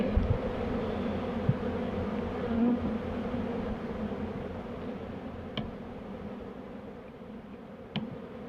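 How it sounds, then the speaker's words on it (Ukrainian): Steady, dense buzzing of many honey bees at an open hive, close and continuous, with a few faint clicks and knocks from handling frames; no talking. "Багато молодої бджоли вже є."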